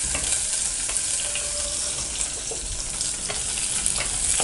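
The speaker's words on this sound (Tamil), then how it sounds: "நல்லா வதக்கிட்டோம்." Onions sautéing in a pan for onion-garlic sambar, a steady close frying sizzle with occasional stirring clicks, continuous and fairly loud with no voices.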